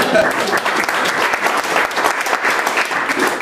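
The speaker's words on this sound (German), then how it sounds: "Jetzt müsste natürlich eigentlich nochmal Applaus kommen." Audience applause welcomes a speaker at a public discussion event on local traffic, a steady dense wash of many hands clapping close by for a few seconds.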